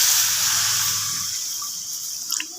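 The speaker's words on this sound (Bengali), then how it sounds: "আমি এবার মশলার মধ্যে গরম জল দিচ্ছি" Hot water pours into frying spice masala for a cauliflower curry, a steady rushing splash that gradually fades, with a faint sizzle and a few small clinks near the end.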